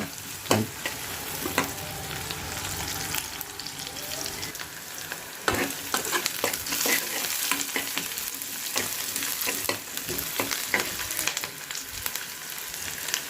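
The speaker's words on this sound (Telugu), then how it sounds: "ఆనియన్స్ ఇదంటే కొంచెము రెడ్గా వచ్చేదాకా వేయించుకోవాలన్నమాట" Onions frying in a pan until reddish, for a cabbage and egg curry, giving a dense, continuous sizzle broken up by frequent scrapes and clacks of a spoon stirring, close and loud.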